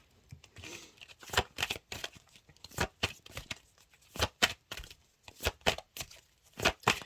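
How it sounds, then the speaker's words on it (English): First Light Tarot cards being shuffled by hand, a soft close run of riffling snaps and papery flicks in quick irregular bursts, fairly quiet throughout. "So I always shuffle until we get a major arcana with the First Light Tarot"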